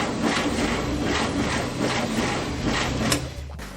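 A Volkswagen-engined ATV's electric starter cranks the engine in a steady, loud, continuous churn that runs nearly unbroken, with a brief sharp spike near the end before it cuts off.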